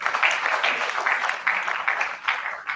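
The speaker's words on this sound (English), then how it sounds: "with an applause, let's welcome Mama Salome" A conference audience at an ancestral wisdom symposium applauds to welcome a speaker, producing a short, moderately loud patter of clapping in uneven waves lasting under three seconds.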